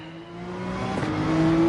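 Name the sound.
car engine revving at race start in Gran Turismo 7 video game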